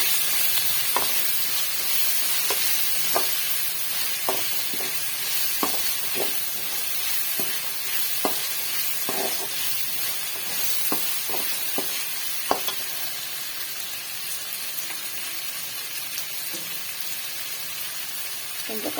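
Tomatoes sautéing in a pan for a chicken fry, a steady close sizzle with repeated sharp clicks and scrapes of a stirring spoon spaced through the whole stretch.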